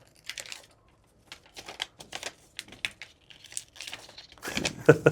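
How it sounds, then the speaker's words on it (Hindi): A sheet of writing-pad paper is crinkled and torn in short bursts of dry rustling and ripping, ending in a louder tear, with people talking in between. "आप फाड़ के देखिए इसको।"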